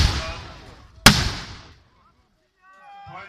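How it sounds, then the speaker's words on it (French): A single loud cannon shot booms at a medieval battle reenactment, cutting sharply through a decaying earlier blast and fading away, followed by brief quiet and faint voices at the end. "Les coups de canon"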